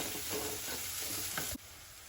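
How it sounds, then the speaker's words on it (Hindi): Onions turning light pink fry in a pan for palak matar sabzi, giving a busy sizzle with a few stirring scrapes. The sizzle cuts off abruptly near the end, leaving quieter background. "प्याज को भी हम अच्छे से भून लेंगे"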